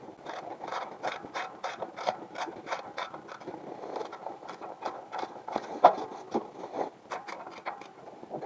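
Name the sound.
ratchet turning during clutch replacement on a Case International 585 tractor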